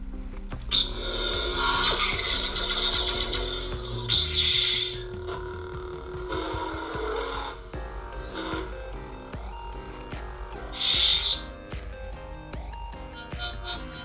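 Lightsaber ignition effects from a SabNeo V8 saber, a series of electronic hums and swells with bright crackling bursts at ignition points, played back one after another with no talking.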